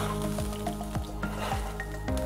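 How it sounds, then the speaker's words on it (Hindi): Mustard oil tempering sizzles and crackles in a pan for a Kashmiri Wazwan mutton dish, a steady close hiss with repeated sharp pops and stirring scrapes throughout. "मस्टर्ड ऑयल का तड़का मारेंगे।"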